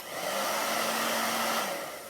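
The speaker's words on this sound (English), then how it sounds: "I am going to dry each letter as we go with the hair dryer" A hair dryer blows with a loud, steady whooshing roar, running continuously for about two seconds before tapering off.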